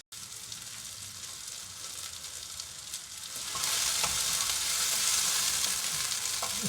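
Onion fries in a pan for a Sicilian pumpkin caponata, giving a steady crackling sizzle that grows noticeably louder partway through.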